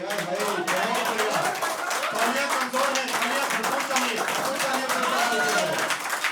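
Clapping from an audience at a Hindi poetry recital on a small stage, fairly loud and continuous, mixed with crowd murmur and voices talking over it.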